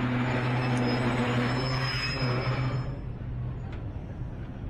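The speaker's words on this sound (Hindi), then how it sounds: "चलें उतरते हैं यहाँ पे, अभी ट्रेन तकरीबन रुकी गई है।" A Rawalpindi passenger train slows into Haripur Hazara railway station, a loud steady rumble of wheels and carriages with high squealing tones that fades slightly as it nearly comes to a halt.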